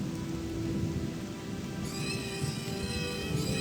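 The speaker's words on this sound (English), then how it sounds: "this weather, man, it just wants to rain every single day" Steady heavy rain hisses across a Gothic 2 Night of the Raven game world, a dense continuous downpour with a low rumbling bed beneath and no voices.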